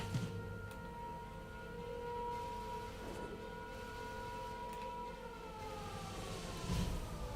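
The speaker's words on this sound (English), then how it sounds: "Siren's a bit late." A distant siren wails steadily in the background, with slow rising and falling tones held over a constant hiss, faint and alone without talk.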